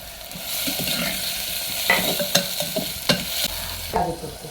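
Slit bajji chillies frying in oil in a pan, a steady sizzle with repeated clattering scrapes of a stirring spoon that grow sharper midway, heard up close and with no speech.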